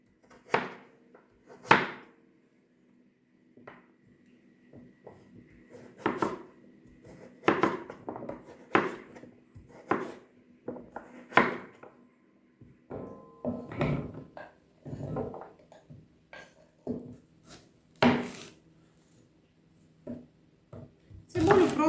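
A knife strikes down hard through a tough pumpkin onto a cutting board again and again in irregular, sharp knocks separated by short quiet pauses.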